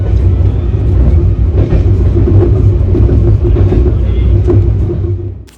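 A passenger train bound for Bikaner rumbles steadily and loudly throughout its run, with rail clatter underneath and talk heard over the noise.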